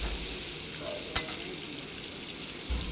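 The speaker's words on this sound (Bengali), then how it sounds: "আমটাকে আমি ফোড়নের সঙ্গে একটু নেড়ে নেবো।" Mango pieces stirred in hot oil with spice tempering in a home kitchen, a steady close sizzle with a brief scrape of the spoon near the middle and a soft knock near the end.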